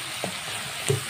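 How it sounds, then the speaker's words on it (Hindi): Chilli sauce and soy sauce frying in a pan, a steady soft sizzle with two brief clinks of a utensil against the pan, no talking. "ये देखें सोया सॉस डालेंगे और अच्छा सा उसको फ्राई करेंगे"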